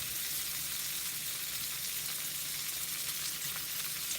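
Onions frying in a pan, a steady, soft, continuous sizzle with a faint crackle throughout and no speech.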